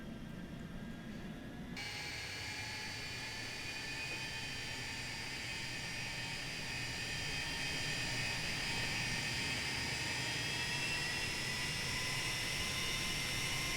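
Steady, rising whine and roar of MD80 jet engines spooling up for takeoff in a flight simulator, a continuous droning tone with climbing pitch over a broad rushing hiss.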